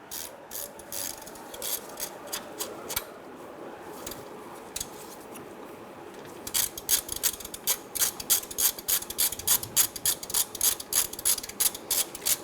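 A ratchet turns a 15mm socket to loosen the idler pulley bolt on a 1997-2006 Jeep Wrangler: quick clicking pawl bursts at first, then a fast continuous run of loud, close ratcheting clicks, with no talking.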